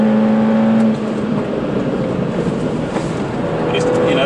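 A Mini car racing hard on a track, its engine droning steadily with wind and road roar throughout, loud and continuous from inside the cabin, with a faint voice underneath.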